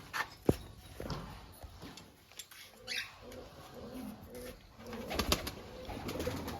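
Pigeons in a rooftop pigeon loft coo in soft, low, intermittent bursts, mixed with shuffling and scattered knocks and movement noises, with no speech.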